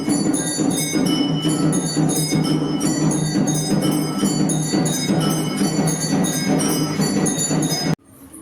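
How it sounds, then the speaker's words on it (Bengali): Machine-played temple music rings out loud and continuous, with steady clanging bells, driving drums and crashing cymbals in a fast repeating rhythm, then cuts off abruptly near the end. "এই যে মন্দিরে যে বাজনা বাজছে, এটা কিন্তু কেউ হাতে বাজাচ্ছে না, মেশিনে"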